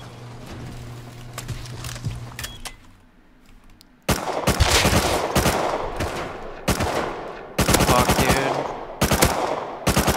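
Rust gunfire crackles in rapid bursts and single shots during a base raid, loud and close, with a quieter stretch before dense automatic volleys resume.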